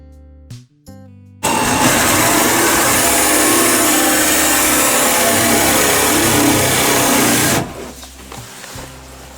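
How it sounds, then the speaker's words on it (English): A power drill whines loudly and continuously for about six seconds while drilling a hole in a wooden boat hull, framed by brief clunks and handling noises before and after. "I hate drilling a hole in my boat."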